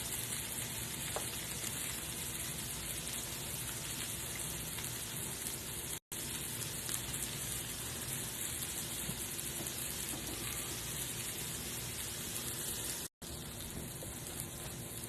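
Turkey burgers topped with cheese frying in a pan, a steady loud sizzle that runs on, cut by two brief silences.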